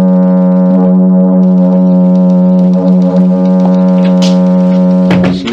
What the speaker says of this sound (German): Das Nebelhorn.